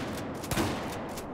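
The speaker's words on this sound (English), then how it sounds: "I so fucking love this shotgun." Shotgun firing in Battlefield 4 during team deathmatch gameplay on the Wave Breaker map, a single sharp blast amid a steady wash of distant gunfire and combat noise.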